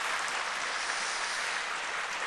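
A church congregation claps for the Seongsu-dong Symphony Orchestra and the young drummers and synth players after a Sunday service. The applause is a brief, even wash of many hands, fairly soft and continuous, without speech.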